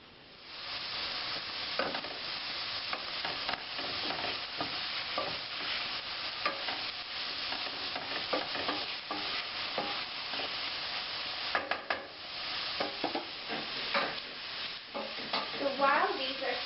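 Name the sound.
onions and minced garlic sauteing in a pan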